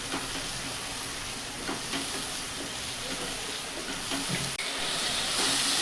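Masala frying in oil over high heat, a steady loud sizzle with faint periodic scraping of stirring, continuous and close throughout.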